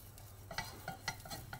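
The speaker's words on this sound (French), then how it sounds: "je vais frotter ma casserole avec ma gousse d'ail." Soft scraping and rubbing strokes of a garlic clove against a hot pan, repeated in a loose rhythm, with a faint sizzle underneath and no talking.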